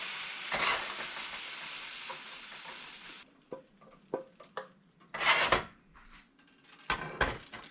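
Beef frying in oil in a pan, a steady loud sizzle for the first few seconds, then quieter with scattered clinks and scrapes of a utensil against the pan and bursts of sizzling as the meat is stirred.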